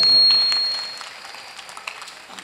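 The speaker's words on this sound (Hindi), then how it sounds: "अरे एक बार जोरदार ताली बजा दो भाई।" Applause from the audience at a Hindi comic poetry gathering (hasya kavi sammelan) swells loudly at the start, then thins into scattered claps that fade over a couple of seconds.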